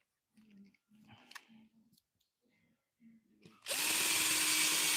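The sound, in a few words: power drill driving into a screw on a roller skate plate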